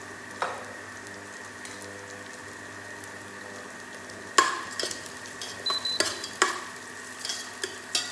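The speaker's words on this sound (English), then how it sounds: "So just saute this for a while" Food sautéing in a pan while preparing Chinese dim sum radish cake, with a low steady sizzle and a run of scraping stir strokes and utensil knocks growing busier in the second half.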